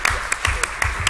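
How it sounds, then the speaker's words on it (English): A conference audience gives a short burst of applause at a city tourism event, with distinct claps spaced through about a second, fairly close and moderately loud, with no talking over them. "So a round of applause for Howard as he leaves."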